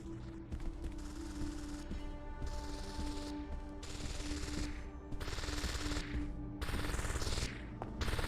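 A turret in the game Deus Ex: Invisible War fires in long, loud bursts of rapid mechanical gunfire, broken by short pauses and overlaid with whirring, clanking machinery.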